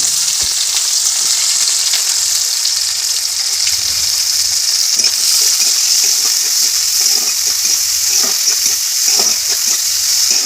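Onions with bay leaf and whole cumin frying in hot oil in a wok, a loud continuous sizzle with frequent scraping strokes of a spatula stirring throughout.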